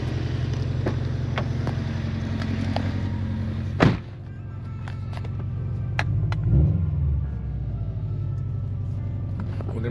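A Subaru WRX STI engine idles steadily while warming up, a close, continuous low rumble with a couple of brief thumps partway through and no talk.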